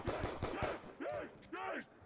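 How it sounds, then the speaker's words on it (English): Rapid pistol shots in a Call of Duty Zombies game, several sharp cracks in quick succession early on, then zombie groans and other game noises, with a voice talking over part of it. "I'm just using this pistol to get the most points, aiming for the head"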